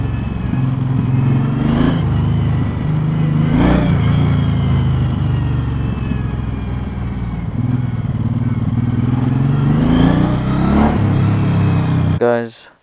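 Suzuki Intruder motorcycle engine revving in first gear, loud and close, a steady throaty drone with several surges in pitch before it cuts off abruptly at the end.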